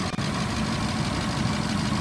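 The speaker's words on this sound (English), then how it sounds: "So you may have heard when I started that engine, there was some valve train noise," A 1993 Cadillac Allante V8 idles with valve train noise, a steady close low rumble with a busy ticking texture layered on top and no talk.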